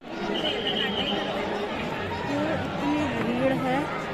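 Dense crowd chatter of pilgrims at Ardhkuwari on the Vaishno Devi route in Jammu, many overlapping voices forming a steady, close hubbub throughout, with occasional clearer individual voices rising above the babble.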